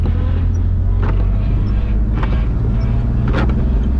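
A drift car slides up an on-ramp at night, its engine a loud, steady low roar with tire and wind noise heard from inside the car, rising in brief surges.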